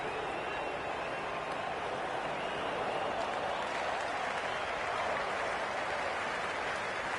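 Steady, dense applause from a large crowd in the Cricket 26 video game, a broad continuous wash of clapping at even loudness throughout, with no voices over it.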